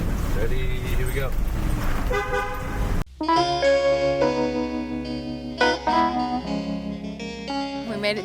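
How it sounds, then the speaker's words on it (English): A school bus horn sounds a few times after a noisy stretch, its tones bright and close. "Now honk my horn. Toot toot."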